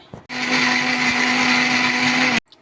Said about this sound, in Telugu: వేసేసుకొని మిక్సీ వేసేసుకుందామండి.